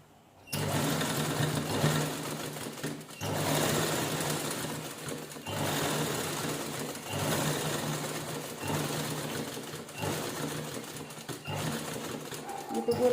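A sewing machine stitches lace onto a saree cover, running in steady rapid bursts of mechanical whirring, starting and stopping several times close to the microphone, with brief quiet gaps between runs.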